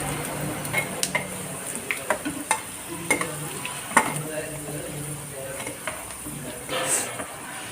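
Chicken 65 pieces fry in oil on a second batch with a continuous sizzle. Frequent close clicks and scrapes of a utensil turning the pieces in the pan break through it, with no talking.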